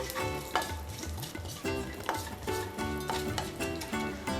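Cumin, mustard seeds and fennel crackle and sizzle in hot oil in a pan, a steady frying hiss with repeated spoon scrapes and stirring knocks, close and fairly loud, with no voices.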